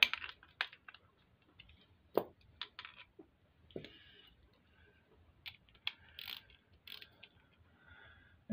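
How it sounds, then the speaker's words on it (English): Torque wrench tightening bolts on an engine block, giving a series of sharp ratcheting clicks and mechanical clacks in irregular bursts, close and fairly quiet, with no talking. "now let me torque down this block"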